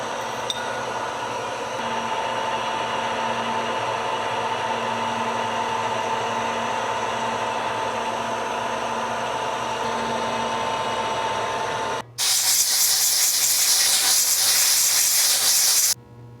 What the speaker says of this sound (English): Next step's to do some knurling on the part.